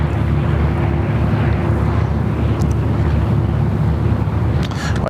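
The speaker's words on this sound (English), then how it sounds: "Qantas A330 300 by the looks of things" Qantas Airbus A330-300 airliner on final approach at Sydney Airport, a steady loud low engine roar that holds throughout with wind rumble, no talk.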